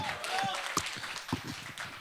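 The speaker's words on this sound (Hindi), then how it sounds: "तो एक बार कीर्ति सर के लिए जोरदार तालियां." Audience applause at a press conference announcing a Divya Raas event, a brief burst of clapping with voices talking over it throughout.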